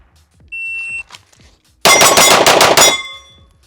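A rapid string of seven close, loud pistol shots from an Archon Type B compact handgun fires in quick succession after a short electronic start beep, with no talking over them.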